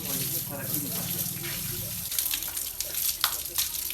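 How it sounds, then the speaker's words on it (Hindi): Water running and splashing outdoors while someone bathes and washes a vehicle in a lane, a steady gushing stream that is joined by rougher splashes in the second half, with a voice talking early on. "गाड़ी धो, और साथ ही साथ नहा लेता हूँ"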